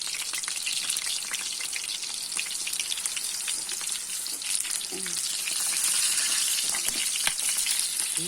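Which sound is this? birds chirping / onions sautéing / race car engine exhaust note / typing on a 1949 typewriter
onions sautéing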